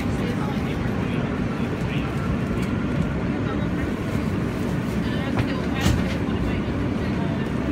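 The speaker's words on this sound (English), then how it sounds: "This is a 57th Street, 7th Avenue bound Q Express train." A New York subway Q Express train rumbles loudly and steadily, a dense low roar with faint metallic squeals, heard from inside a car.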